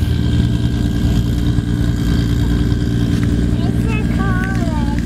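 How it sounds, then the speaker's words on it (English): A race car at a car meet rumbles loudly up close in reverse gear, its engine holding a deep, steady idling drone with slight rises in revs, while excited voices and a whistle-like squeal sound over it. "Race car! Yeah, big race car!"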